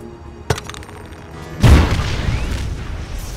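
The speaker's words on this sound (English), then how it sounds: "Keep the phone on so I can hear the explosion" A single deep, heavy grenade explosion boom hits after a faint earlier pop, followed by a long rumbling tail that fades slowly.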